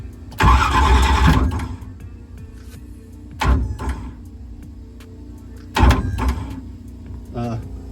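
A car engine cranks in three separate bursts with long pauses between, each starter whir stopping without the engine catching, close and loud.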